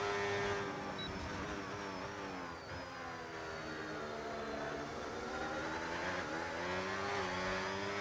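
Race car engines from an online racing video game league at the Jeddah circuit scream and rise through the gears, pitch sweeping up and down steadily, loud and continuous with no talk.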